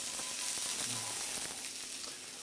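Onions sizzling in smoking-hot oil in a pan, a soft continuous frying hiss with faint crackles, steady and close.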